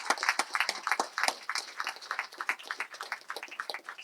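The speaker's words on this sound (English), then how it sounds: "Please give him a big round of applause." An audience claps after a talk on demystifying the AI revolution. The applause is moderate and steady, a dense patter of many hands that continues for a few seconds.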